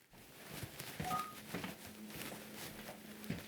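DTMF keypad tones dialed on a phone connected to an Asterisk phone system to park a call, a short run of separate beeps spread over a few seconds, fairly faint against a steady low hum.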